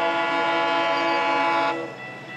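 A train horn blasts in one long, loud, sustained tone for most of the clip, then cuts off and leaves quieter rail noise behind.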